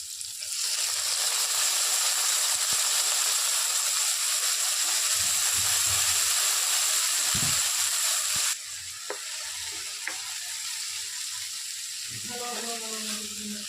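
Soaked moong dal dropped into hot oil with fried green chillies, a loud continuous sizzle that cuts to a softer bubbling hiss, with a few stirring clinks near the end.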